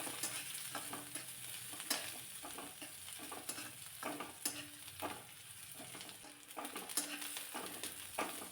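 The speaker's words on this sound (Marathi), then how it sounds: "एक मध्यम साईजचा कांदा बारीक कट करून यामध्ये घातला आणि जास्ती लालसर होईपर्यंत परतायचा नाही" Finely chopped onion sautés in a pan with a soft, steady sizzle, broken by repeated scraping and tapping of a spoon as it is stirred, with no voices.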